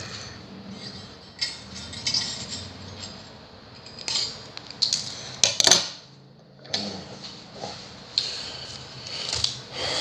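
Wire cutters snipping the excess strings close on a Seagull Merlin, a string instrument, producing several small metallic clicks and ticks up close, with faint handling noise between cuts.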